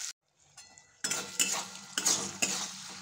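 A spatula scrapes and stirs a paste of ground garlic, coriander, cumin, turmeric and chili with a little water in a hot pan for an eggplant mutton dish, giving repeated close clinks and a soft sizzle.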